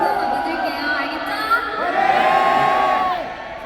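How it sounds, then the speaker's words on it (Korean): Large concert crowd cheering and screaming at a tour sound check event in Incheon, a sustained loud roar of high-pitched voices and whoops that swells toward the middle and fades slightly at the end. "오늘 피아나 함성 소리 많이 기대할게요."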